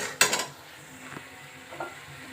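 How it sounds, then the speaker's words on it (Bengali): Spice masala for ghugni, with chopped coconut added, cooks in a pan with a soft steady sizzle, a sharp clatter of stirring near the start and a couple of lighter scrapes later. "এদিকে মশলাটা কষতে দিয়েছি"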